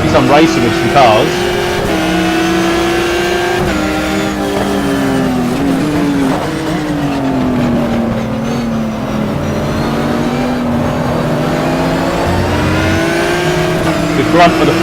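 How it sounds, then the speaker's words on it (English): Ferrari race car engine in the racing sim GTR2, a steady loud drone rising and falling through gear changes as it chases Porsches, with no talking over it. "The grunt of the Ferrari should push me past them now"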